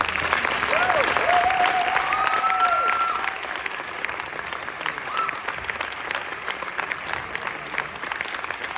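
Audience at a children's theatre workshop applauds steadily for a few seconds, then the clapping thins and fades, with faint voices and whistle-like tones over it.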